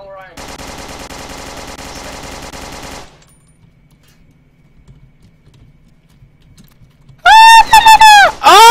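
A rapid, loud burst of automatic gunfire in the blocky shooter game Blockade 3D lasts about three seconds, then near silence, followed by a voice shouting loudly.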